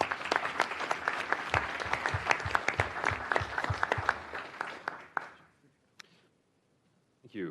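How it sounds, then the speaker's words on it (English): City council meeting audience applauds steadily for about five seconds, a dense roomful of clapping that then fades out, followed by near silence and a brief soft noise at the end. "Let's have a round of applause."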